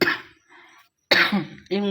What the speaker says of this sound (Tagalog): pinarinig ko lang sa inyo yung ubo ko para alam nyo